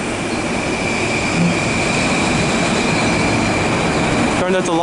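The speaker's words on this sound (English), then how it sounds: "Darn, that's a long train." A long train rumbles steadily past at close range in New York City, a continuous roar of wheels on rails with a brief high squeal near the end.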